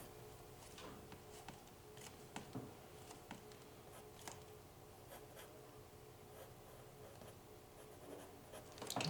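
Pencil drawing contour lines on paper, soft scratchy strokes in short bursts with brief pauses between them, close but faint, no voices.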